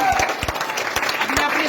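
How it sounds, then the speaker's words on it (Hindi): Audience clapping at a direct selling team event, with separate claps bursting out irregularly as a person keeps talking over them. "इनके लिए जोरदार तालियां बजनी चाहिए"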